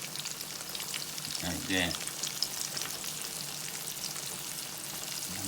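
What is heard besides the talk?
ranch ribs frying in oil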